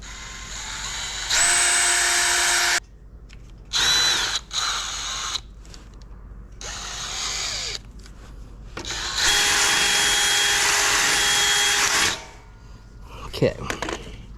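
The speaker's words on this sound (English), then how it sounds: "Now let's go drill that hole." A power drill bores a hole in a boat trailer, sounding in several whining bursts of different lengths separated by pauses, close and loud, with a few clanks near the end and brief talk between bursts.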